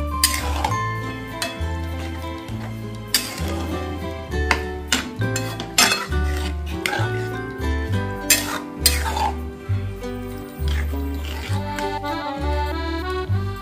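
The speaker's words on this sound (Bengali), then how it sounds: "ভালোভাবে মিশিয়ে নিচ্ছি।" Dal lentils, boiled until very soft, are stirred in a cooking pot, with soft scraping and light clinks repeating steadily under prominent rhythmic background music.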